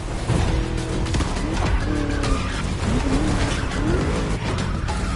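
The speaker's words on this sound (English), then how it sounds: "Just listen to that V8 like a chunky, down-tuned guitar riff." A roaring V8 car engine revs and shifts with tire squeals layered over it, loud and continuous, in the racing game The Crew Motorfest.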